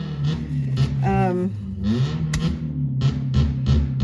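A loud car engine revs repeatedly nearby in a driveway, rising and falling in pitch, with a steady low rumble throughout.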